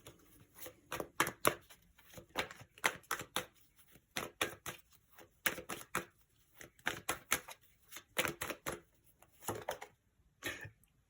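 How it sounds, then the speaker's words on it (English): Crisp, rapid riffling bursts of shuffling a tarot-style card deck repeat in quick irregular clusters, close and fairly quiet, with brief pauses between. "It was on the bottom, did all that shuffling, and it came back out again."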